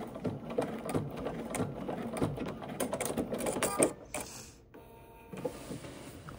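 A sewing machine stitches a seam on cashmere-look pants fabric with a steady mechanical whir and ticking for about four seconds, then stops, leaving faint handling sounds.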